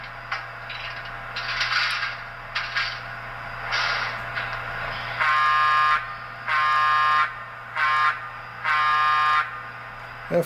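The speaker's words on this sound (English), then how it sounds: "13 is grade crossing signal" Grade crossing signal sound from the speaker of a Broadway Limited PRR P5a box cab N scale model locomotive, a buzzy electronic ringing in bursts that grow steadier and more even toward the end, over a low constant hum.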